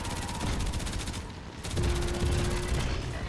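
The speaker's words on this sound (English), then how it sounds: "Cap, keep her distracted. I'll shoot her" Rapid gunfire aimed at a boss in a video game, a dense steady stream of shots running throughout, with a brief dip midway before the firing resumes loudly.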